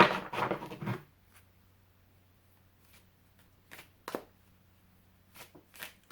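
A deck of large cards is shuffled, first as a loud, close riffling burst, then in a few brief, quieter flicks separated by pauses.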